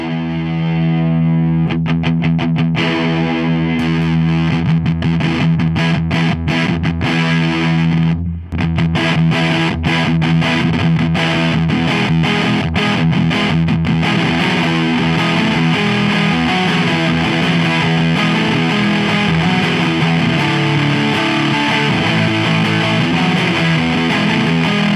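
An electric guitar is played through a Marshall JCM800 drive pedal, giving heavily distorted, saturated chords and notes. Choppy picked attacks open the passage, then it settles into sustained, dense, loud overdriven tones with no voice over it.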